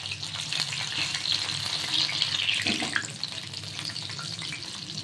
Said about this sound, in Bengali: ধীরে ধীরে এটা ভাজা হবে।